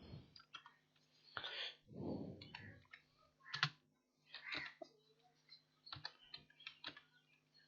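Keys on a computer keyboard clatter softly in irregular bursts of typing, each click close but quiet, with short pauses between runs in an otherwise silent room.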